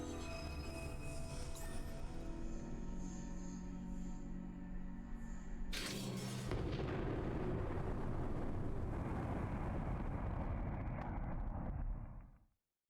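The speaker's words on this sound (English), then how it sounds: "There's the explosion." An explosion at a refinery's catalytic cracking unit in the video game Norco: a loud, sustained rumbling blast that shifts into a rougher roar midway, then cuts off abruptly.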